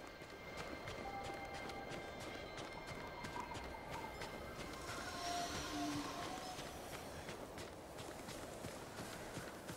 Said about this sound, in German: Wie schaut es denn eigentlich aus, so mit so einem Pferdchen?